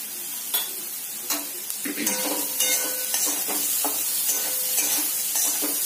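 Salted vegetables cook in a pan for desi-style pasta, sizzling steadily as a spoon stirs, with repeated clinks and scrapes against the pan close by.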